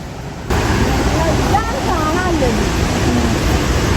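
A loud, steady rush of water pouring down a waterfall in Wayanad fills the scene close by, with faint voices partly buried under the roar.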